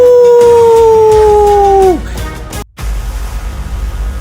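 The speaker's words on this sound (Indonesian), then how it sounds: "jeritan kesakitan Tejo, laksana anjing serigala melonglong saat sosisnya putus, terus saja terngiang-ngiang di telinga si Tini" A dog-like howling cry, loud and close, holds a long sliding wail for about two seconds before it breaks off abruptly. Low rumbling noise continues underneath, with a brief silent gap afterward.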